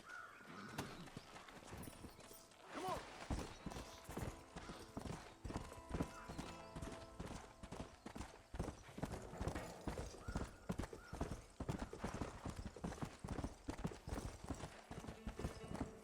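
Horse hooves clip-clopping steadily in Red Dead Redemption, a regular trotting rhythm of close, crisp hoofbeats that continues throughout, with a faint whinny and distant bird caws in the background.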